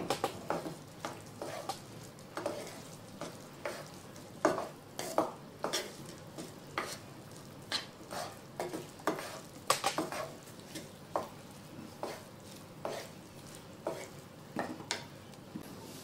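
Rice is stirred in a pot for tamarind pickle biryani, with a utensil scraping in repeated strokes about once a second. The strokes are fairly soft and steady over a faint sizzle, with no talking.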